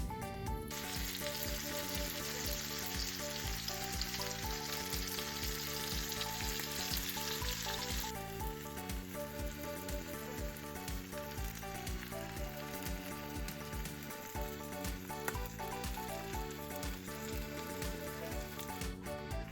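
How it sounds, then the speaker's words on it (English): Steady, dense sizzling of panko crumbs frying in hot oil for crab cakes, close and continuous, with a brighter hiss in the first several seconds that then settles. "sprinkle in some panko crumbs and they start to simmer. Or sizzle."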